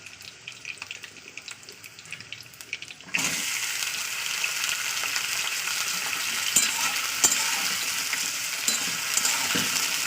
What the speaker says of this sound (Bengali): এটা আমি অল্প করে ভেজে নেবো তেলের উপরে